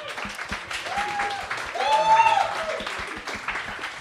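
Podcast hosts applaud a guest named Audrey during a French beer podcast episode, a brief patter of clapping that swells mid-clip amid laughter and chatter.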